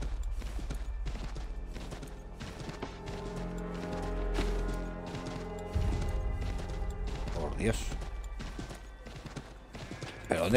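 A horse's hooves clip-clop steadily in the woods in Assassin's Creed III, a rhythmic stream of hoof falls with game ambience and occasional clatter. Someone talks over it at times.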